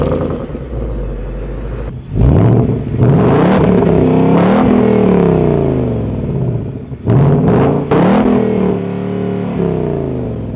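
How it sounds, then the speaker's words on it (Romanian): A Ford Mustang 5.0 V8 engine revs hard through its exhaust in several loud bursts, rising and falling between rumbling idle, close to the tailpipe. "hai să vă arăt, frate, cum se aude mașina asta"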